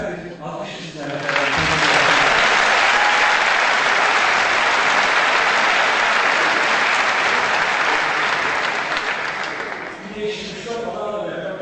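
A concert audience of a music show gives loud, sustained applause that swells quickly and holds for about nine seconds, then fades. A voice talks at the start and end.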